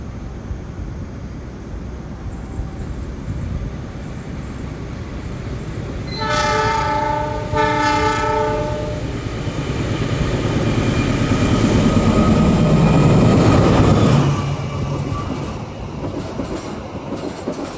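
A train passes at a railway crossing loop in Indonesia with a loud, sustained rumble and a horn sounding in several stepped blasts. Wheel clatter rises and fades as the cars go by.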